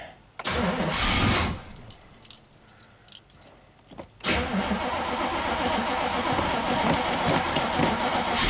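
A classic Corvette's engine cranks in a short burst, pauses amid a few small clicks, then catches and roars to a steady idle, loud and close.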